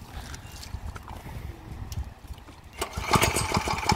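A new-model tractor fitted with cage wheels runs in first gear through deep mud in a farm field. Its engine chugs faintly with clattering, splashing knocks, and the sound grows louder and busier toward the end.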